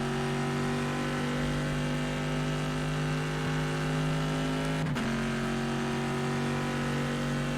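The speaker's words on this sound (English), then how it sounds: "Very nice sound out of this Corvette." Corvette race car engine in rFactor 2 at Le Mans, a steady loud mid-pitched drone with a brief dip near the end, as if shifting or braking, then resuming.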